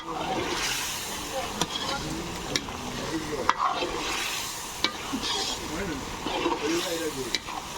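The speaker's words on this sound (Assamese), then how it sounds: "এতিয়া মাংসখিনি ভাজি আছোঁ।" Meat frying in a pan and being stirred, a continuous loud sizzle broken by the scrape and clatter of a spatula, with a voice speaking quietly in the background.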